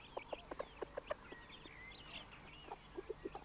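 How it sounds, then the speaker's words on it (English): Chickens cluck repeatedly in a permaculture chicken house, a run of short, fairly close clucks with a brief pause in the middle, with other birds calling faintly in the background. "David Osbiston attends to his chicken house"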